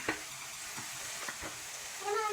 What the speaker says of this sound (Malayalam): പിന്നെ ഇതെല്ലാം കൂടിയിട്ട് നല്ലോണം വഴറ്റിയെടുക്കണം